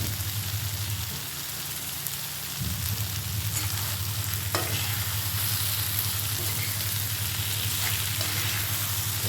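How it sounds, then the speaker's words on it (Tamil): Brinjal poriyal, an eggplant stir-fry, sizzles steadily in a pan as it is sautéed, with a low continuous frying hiss and a few stirring scrapes, close and alone without talk. "இப்போ நல்லா வதங்கி வந்துருச்சு."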